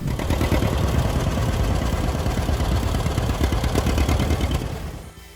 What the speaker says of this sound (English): The tractor that sang the song of the Midwest, the John Deere 720.